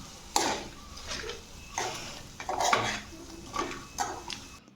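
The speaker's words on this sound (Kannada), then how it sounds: "ನೋಡಿ, ಇದನ್ನು ಚೆನ್ನಾಗೀಗ ಮಿಕ್ಸ್ ಮಾಡ್ಕೋತಾ ಇದ್ದೀನಿ." Fried cauliflower florets for dry gobi manchurian being tossed and mixed in a pan, a utensil scraping and clinking against the metal in several uneven strokes, close and moderately loud, no one talking.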